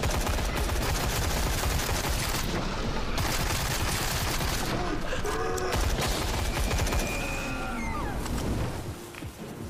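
AK rifle gunfire in the video game Sker Ritual, heard as continuous dense loud shooting mixed with a chaotic boss-fight din that carries on throughout and tapers slightly at the end.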